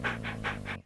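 A dog pants in four quick, even breaths, close and fairly loud, each huff rasping and breathy, with a steady low hum underneath and nothing after the last breath.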